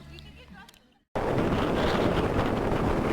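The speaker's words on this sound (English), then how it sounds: "Our first stop of the day on a very windy day" Strong wind on a very windy day in Calexico, California, near the Mexican border, roaring loud and steady against the microphone after a moment of quieter sound and a brief silence.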